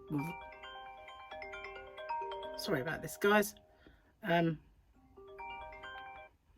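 A mobile phone ringtone plays a repeating melodic tune of bright tones, nearby and moderately loud, in bursts over several seconds. Someone speaks over it and between the rings.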